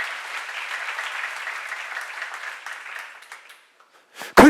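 A church audience at a seminar breaks into applause that rings steadily for a few seconds, then thins out and stops, and a sharp bump closes the moment.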